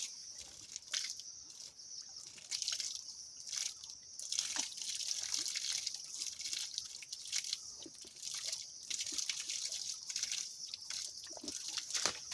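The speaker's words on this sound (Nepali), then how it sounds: "ल यो पानी आइरहेको रहेछ है।" Soft trickling water from a spring with irregular drips and splashes, fairly close and continuous, no voices.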